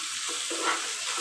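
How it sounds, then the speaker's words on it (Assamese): Soft sizzling and stirring of tomatoes with salt in a hot cooking pan, a steady close hiss with faint scraping, brief and with no talking. "সোৱাদ অনুসৰি নিমখ দি আকৌ ভালকৈ লৰাই দিছোঁ"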